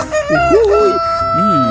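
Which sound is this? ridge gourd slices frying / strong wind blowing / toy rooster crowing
toy rooster crowing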